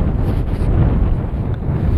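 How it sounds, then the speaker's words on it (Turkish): Strong wind buffeting the microphone outdoors at an artificial sheep pasture, a loud continuous low rumble with no talk. "Şimdi burada şu anda rüzgar var."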